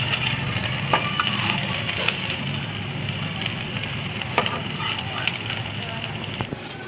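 Beef mini kebabs fry in oil in a pan with a continuous close sizzle, broken by a few sharp clicks and scrapes from stirring.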